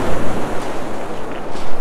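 Waves surge and a steady gusting wind roars across a very exposed beach on Cardigan Bay, a broad continuous wash that swells and eases in loose pulses, with no voices.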